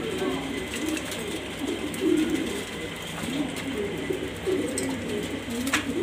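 Pigeons kept for sale coo in soft, repeated low murmurs, several birds overlapping close by over a steady background hum with occasional faint chirps.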